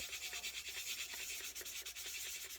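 Sandpaper rubs over hardened filler on a part from an AMT 1968 Corvair model car kit, in steady, close back-and-forth strokes with a soft, even rhythm throughout.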